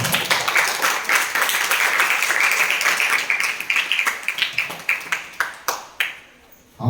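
Loud audience applause fills the opening seconds, then thins into scattered individual claps that fade to silence before a final sound at the end.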